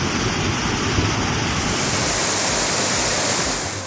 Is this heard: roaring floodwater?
yes